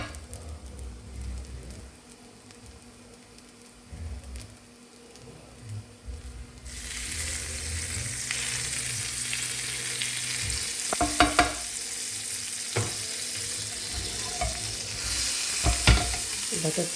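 A veg bread burger fries in butter on a pan, the sizzle rising sharply partway through into a steady, loud crackle with occasional scrapes and clicks of stirring, no talking.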